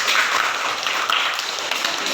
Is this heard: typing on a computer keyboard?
no